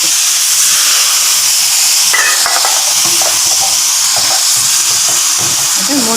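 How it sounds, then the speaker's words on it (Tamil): Water hits a hot pan of stir-fried cauliflower with peas, and a loud, steady hiss and sizzle of steam fills the clip, close up, with a few faint pan clinks and no voices. "கொஞ்சம் தண்ணி ஊற்றி வேக வச்சு"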